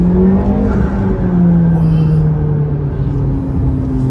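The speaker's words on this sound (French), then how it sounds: "On entend le bruit des turbos en fait, et on sent vraiment que toute la puissance passe au arrière" A limited-production McLaren with a twin-turbocharged engine accelerates hard. It gives a loud, close, rising engine drone with turbo whistle and slight wheelspin, alone with no talk.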